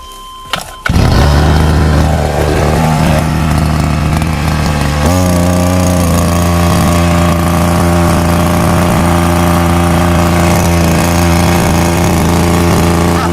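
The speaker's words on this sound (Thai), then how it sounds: "ตัวนี้เดี๋ยวผมจะสตาร์ทสูบน้ำขึ้นไปให้เบิ้งครับ" A grass trimmer engine converted into a water pump starts up and runs with a loud, steady droning hum that settles into an even idle for several seconds, alone with no talk.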